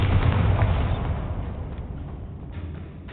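Spell explosions from Confringo and Bombarda in Hogwarts Legacy, a dense, loud rumbling blast with a heavy low boom that decays into a sustained roar over a few seconds.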